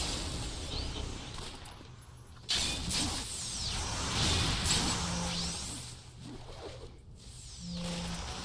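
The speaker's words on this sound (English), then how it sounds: "Who's shooting us with a machine gun?" Machine gun fire in a video game: sustained crackling bursts and mechanical rattling with whooshing sweeps layered over a busy game soundscape, loud at first and fading toward the end.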